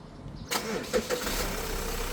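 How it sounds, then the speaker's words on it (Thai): Mazda CX-5 engine fired with the push start button, with a brief cranking burst that settles into a steady idle. It sounds close and moderately loud. "เหยียบเบรกกดปุ่มสตาร์ท"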